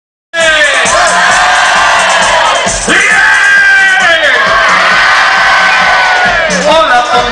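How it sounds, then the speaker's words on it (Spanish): A large, loud crowd at a live orchestra show cheers, yells and whoops close by, a raucous, sustained roar with one short dip partway through. "Y ese fuerte aplauso para Marta"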